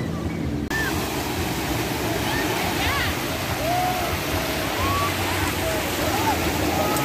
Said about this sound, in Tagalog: labi ang lakas ng alon